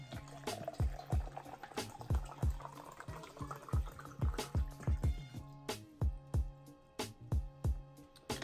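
Water being poured into a plastic shaker cup holding blue powder. It sounds as a close, gurgling fill with repeated glugs and splashes in an uneven rhythm, heard on its own.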